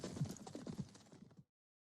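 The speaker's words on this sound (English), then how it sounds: "Zorro's horse is very fast." A fast horse's hooves pound in a rapid galloping clip-clop, loud and near, with no voices, then stop abruptly.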